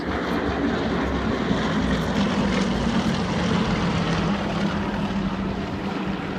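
Aerostars aerobatic team aircraft roar past at Farnborough International Air Show, a steady, loud propeller engine drone filling the air without a break.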